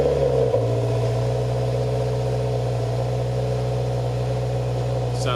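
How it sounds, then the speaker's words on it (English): Cold start of a 2020 Subaru WRX with the FA engine and an Invidia Gemini R400 catback exhaust: a steady, loud engine drone with a brief flare at the start settling into a continuous idle throughout. "Gonna do the first startup, first cold start."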